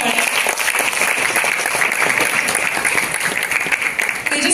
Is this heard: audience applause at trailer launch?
yes